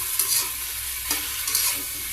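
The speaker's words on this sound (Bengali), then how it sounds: "এখন হলো শাক ভাজি, পুঁই শাক রান্না করি।" Malabar spinach (pui shak) frying in a pan, a steady hiss of sizzling with a few scraping stir strokes, close and continuous.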